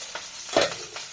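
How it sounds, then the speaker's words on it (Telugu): Vegetables fry lightly in a pan, giving a soft continuous sizzle with a brief stir or scrape near the middle, heard up close with no talking. "అయితే లైట్గా ఫ్రై చేసుకుంటున్నాను."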